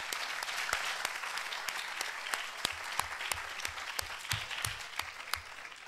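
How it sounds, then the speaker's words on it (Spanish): Audience applause at a hackathon prize ceremony, a steady crowd of clapping with some individual sharp claps standing out near the microphone. "les vamos a dar un aplauso, aunque no estén aquí"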